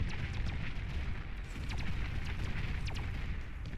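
Bombing-run explosions in the strategy game Beyond All Reason form a dense, continuous rumble of distant blasts, a steady muffled barrage at fairly low level with scattered sharper pops.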